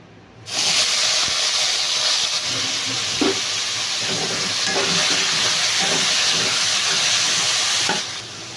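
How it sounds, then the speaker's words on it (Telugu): Eggplant pieces frying in hot oil give a loud, steady hiss and sizzle that starts abruptly and holds evenly for several seconds, with occasional pops and stirring knocks before fading at the end. "ఇప్పుడు మనం కొంచెం ఆయిల్ వేసుకొని వంకాయలు ఫ్రై చేసుకుందాము"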